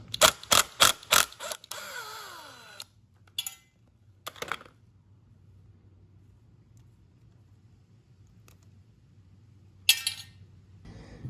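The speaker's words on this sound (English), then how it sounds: "Okay, so I got this sprocket off." Metal tools clink and ratchet sharply in quick bursts while a rusty sprocket comes off a 2004 MX Flywing pit bike, then fall away to a quiet low hum with a few isolated clanks.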